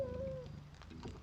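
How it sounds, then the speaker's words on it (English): Cats in The Wild at Heart video game meow, one clear rising mew up front followed by softer chirps and a low rumbling purr underneath, close and quiet. "And you can hear the purring."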